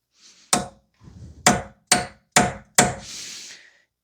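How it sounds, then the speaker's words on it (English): A hammer strikes a punch to unstake the axle nut on a 2009-2019 Toyota Corolla during front wheel bearing work, five sharp, loud metallic blows spaced about half a second apart with light scraping between. "I'll see if I can unstake it slightly. You just use like a punch or something"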